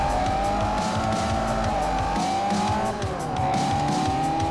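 Race car engines roar at a race start in Forza Motorsport 4, a loud continuous drone with shifting pitch as gears change and tires squeal, no talking over it.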